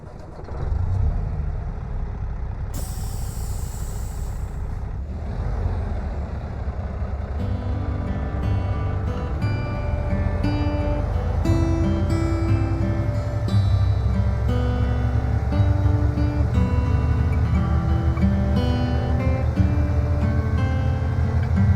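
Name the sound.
Kenworth W900 truck driving in American Truck Simulator video game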